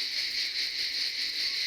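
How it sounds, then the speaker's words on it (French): Cicadas buzz in a dense, steady, high-pitched drone, loud and continuous with a slight pulsing shimmer, with no voices over it. "Qu'est-ce que c'est qu'on entend? Les cigales."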